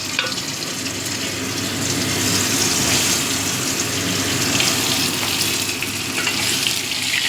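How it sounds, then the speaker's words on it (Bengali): Cut potatoes frying in a pan for a fish curry with flat beans and lentil dumplings, a steady loud sizzle running throughout with a few stirring scrapes, no talking. "আলুগুলো একটু ভেজে নেবো"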